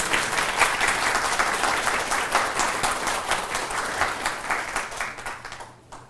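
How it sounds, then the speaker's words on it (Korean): A room of attendees at a policy forum on support for jeonse fraud victims breaks into sustained, dense applause that stays full and even before tapering off at the end. "염태영 국회의원님께 큰 박수 한번 쳐주실래요?"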